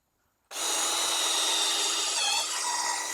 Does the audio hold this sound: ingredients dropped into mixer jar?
no